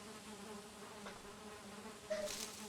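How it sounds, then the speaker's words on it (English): Bees in the video game Valheim buzz in a steady, faint drone over quiet ambience, with no talking. "I'm going to call that bees."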